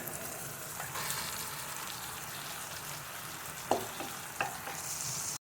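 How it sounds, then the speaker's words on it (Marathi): Mutton sizzling in hot oil with onion and tomato, a steady crackling fry throughout with a couple of sharper pops of stirring near the end. "चांगलं कांदा टोमॅटोमध्ये मटण चांगलं परतून घेऊया आपण तेलामध्ये"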